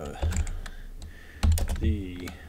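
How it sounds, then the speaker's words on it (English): Keys on a computer keyboard clack in quick, irregular bursts close to the microphone, with a few heavier strikes mixed in and a voice speaking over the typing. "we'll just type out anything you want"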